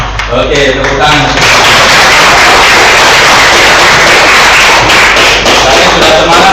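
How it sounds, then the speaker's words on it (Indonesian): Schoolchildren in an Indonesian primary classroom clap their hands together, a loud, dense and continuous burst of many small hands, with children's voices mixed in throughout. "tepuk tangan"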